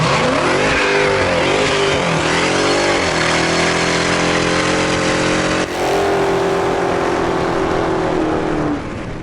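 2020 Dodge Charger Hellcat Widebody with its supercharged Hemi V8 and 8-speed automatic, revving loud and close in repeated rising pulls, then a long sustained high wail that climbs and cuts off, with no talk.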